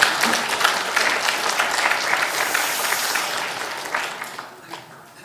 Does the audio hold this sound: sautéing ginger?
no